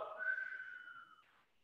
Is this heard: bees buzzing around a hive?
no